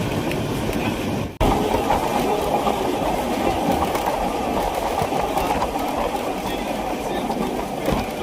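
Swarnanagar Express train travelling from Jaisalmer to Jodhpur, a steady loud rumble of rolling wagons with faint rhythmic clatter, briefly cut near the start then continuing uninterrupted.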